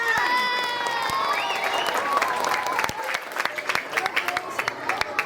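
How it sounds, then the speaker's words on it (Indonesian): An elementary school audience applauds at the closing of a technology project event, with lively clapping and children's shouts swelling and then thinning into scattered claps as voices carry over it. "Tepuk tangan."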